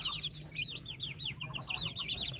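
Darag chickens on a farm cluck in quick, repeated bursts, close and fairly soft, over a low background hum.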